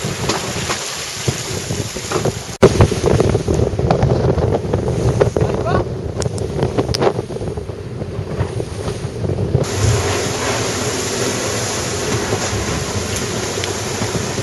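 Steady wind roaring across an open microphone aboard a racing sailboat, with rushing water and hull noise beneath, a continuous loud blustery wash with brief gusty dropouts.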